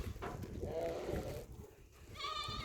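Barbari goats bleat on a goat farm in a few drawn-out, wavering calls, one midway and another near the end, over steady farmyard background with a voice speaking nearby.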